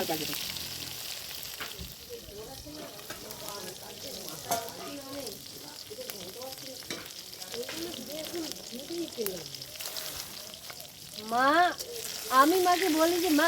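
Home-grown eggplant fries in oil on a wood-fired stove, with a continuous crackling sizzle close by, occasional stirring clinks, and people talking over it throughout.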